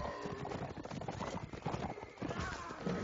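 Heavy Swadian cavalry horses in a video game battle, rapid clip-clop hoofbeats with neighs rising over a busy din, while someone comments over the action.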